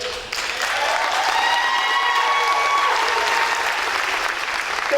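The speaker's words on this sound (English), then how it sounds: "So let's give them a nice round of applause" Audience applause at a dance recital, a dense, full round of clapping that swells in quickly and holds steady at a loud level throughout, with faint crowd murmur beneath.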